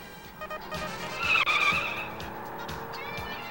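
Car in the Super Road Blaster game crashing into a store, with a skidding tire squeal rising to a loud burst of screeching and impact in the middle, over steady engine noise.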